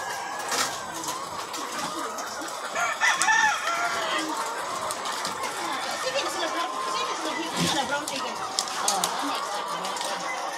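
Chickens on a poultry farm in Carcar City, Cebu, cluck and crow continuously at close range, with a rooster call standing out among the flock while people talk nearby.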